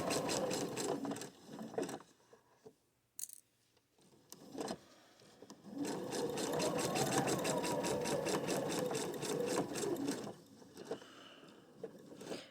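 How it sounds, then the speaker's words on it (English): A sewing machine stitches a center gore on a T-tunic in separate runs: a short burst, a pause with faint clicks, then a longer steady whirring stretch before it slows and stops, close and fairly quiet. "I'm just going to carefully sew over my pin right here because I want to be able to see what I'm doing"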